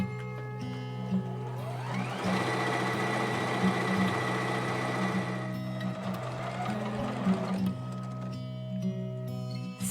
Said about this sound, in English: It's a sewing machine.